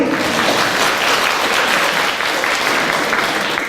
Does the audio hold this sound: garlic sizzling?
no